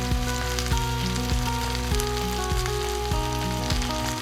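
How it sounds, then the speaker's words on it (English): Meat and potatoes frying in a pan, giving a steady, dense sizzle and crackle close by with no talking. "I'm gonna go just fry these up in a pan to get a little crisp on them"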